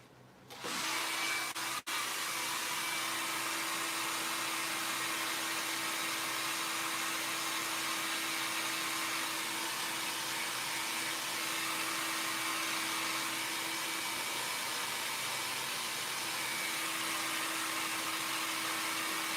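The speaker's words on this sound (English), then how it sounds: "So I'm cheating with the hairdryer." A hair dryer switches on and blows across a candlestick being finished, with a loud, steady whoosh and a constant motor whine that runs unbroken to the end.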